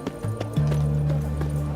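A horse in The Witcher 3 video game, with a few hoof thuds followed by a sustained low neigh-like tone, close and fairly loud, while a voice talks over it.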